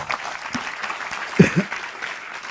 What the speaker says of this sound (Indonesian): Oke, tepuk tangan untuk beliau.